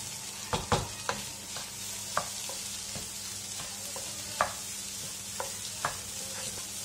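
Spiced egg bhurji scrambled eggs are stirred in a frying pan with a soft steady sizzle, broken by scattered scrapes and taps of the spatula against the pan, close and quiet, with no talking.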